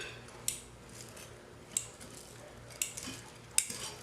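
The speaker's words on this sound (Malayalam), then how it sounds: "ഇതിലേക്ക് അല്പം നാരങ്ങ നീരും കൂടെ മിക്സ് ചെയ്ത് കൊടുക്കുക." A spoon clinks against a bowl while vegetables are mixed with salt, pepper and lemon juice for an egg roll filling, giving four quiet, separate metallic taps about a second apart over a soft background.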